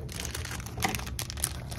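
Soft crinkling and rustling of charm necklace packaging being handled and opened, quiet and close, with a few sharper crackles.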